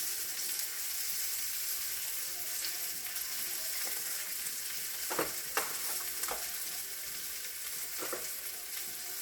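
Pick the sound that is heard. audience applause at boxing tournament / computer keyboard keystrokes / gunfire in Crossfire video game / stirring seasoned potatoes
stirring seasoned potatoes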